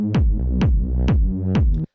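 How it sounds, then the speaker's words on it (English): A punchy techno kick drum with bass hits four times in an even rhythm, each thump followed by a sustained low bass tone, thickened by drum bus processing and loud and close. "The first thing here is this drum bus,"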